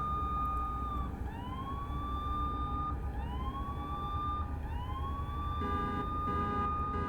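A video game emergency siren wails in repeated rising sweeps, steady and fairly loud over a constant engine-like hum from a Mercedes-Benz W447 V-Class van.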